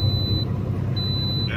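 Weigh station bypass transponder in a big rig truck cab signalling a green light: two high electronic beeps separated by a short gap, sounding clearly over the low steady rumble of the truck's engine and road noise.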